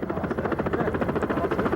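Helicopter landing at the Incheon coast guard pier after dark, heard as a loud, close, steady rotor beat with rapid even thumps over a thick engine drone.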